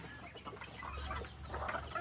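Farm chickens cluck in a steady, overlapping chorus at moderate volume, with scattered calls and a busy outdoor background throughout.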